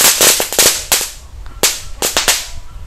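Small Indonesian firecrackers (mercon and petasan) go off inside a wok during Ramadan, giving a rapid, irregular string of loud, sharp cracks and pops, some bunched close together, close by and with no talk.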